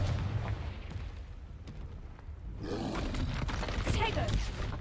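Confringo spell explosion in Hogwarts Legacy, a sudden booming blast with a rumbling, crackling tail after a quieter low rumble, amid game combat sounds.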